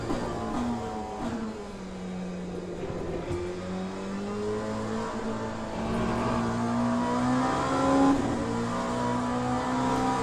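Race car in the Le Mans Ultimate sim accelerating out of the Lesmos corner, its engine note climbing through rising revs and gear changes, loud and continuous with no voices.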